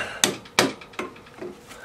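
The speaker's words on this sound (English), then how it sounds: "with a soft hammer, tap that bolt through" A soft hammer tapping a bolt through an engine bracket on a 2004 Kawasaki Vulcan motorcycle during engine removal, four close, evenly spaced blunt knocks fading slightly in strength.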